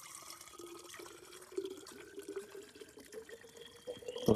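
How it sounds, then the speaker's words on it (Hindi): Cold water flows from a mountain water source at Madmaheshwar, a soft, continuous trickle and splash close by, growing slightly louder toward the end. "तो देखो वाटर सोर्स इन मध्य महेश्वर,"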